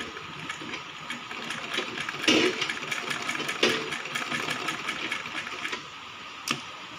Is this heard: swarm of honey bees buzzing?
no